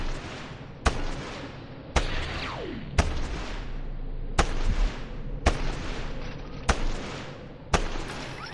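Repeated gunshots in the video game Fortnite, about eight sharp cracks spaced roughly a second apart, each trailing off in a brief echo, loud and close with no talk over them.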